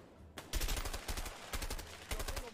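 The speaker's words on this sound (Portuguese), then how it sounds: "Eu só tava atirando." Loud bursts of automatic gunfire in A Way Out, three rapid rattling volleys separated by brief pauses, close and punchy with no voices over them.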